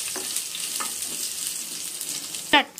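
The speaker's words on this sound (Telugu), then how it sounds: "ఇవి దోరగా ఫ్రై అవ్వనివ్వాలి" Crushed garlic frying in hot oil for a catering-style okra fry, a steady close hiss and crackle with a brief louder sputter near the end.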